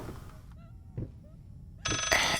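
A floating phone in the horror video game Layers of Fear rings out loud and bright near the end, after a stretch of quiet, warbling tones.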